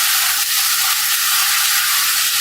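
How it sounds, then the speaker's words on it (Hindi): Chicken sizzles hard in a pan with garlic fried golden brown, a loud, close, unbroken hiss of hot oil that holds steady from start to finish. "अब यहाँ पर चिकन अच्छे से फ्राई हो चुका है।"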